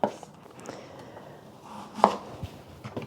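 A knife slices through an onion on a cutting board, giving a few sparse, soft cuts with short gaps between them at close range.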